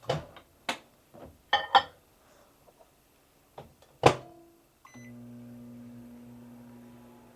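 Several short knocks and clicks, then a beep, followed by a steady low microwave oven hum running on alone.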